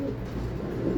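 A young racing pigeon, about two months old, coos at a club loft in Saudi Arabia, giving low, soft, continuous murmuring close by with no talk.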